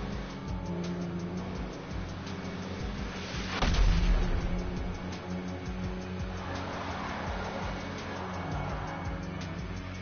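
Rocket explosions in a basketball-themed video game: a single heavy booming blast around the middle rises over a steady engine-like rumble, followed by fainter crackling debris, with no talking.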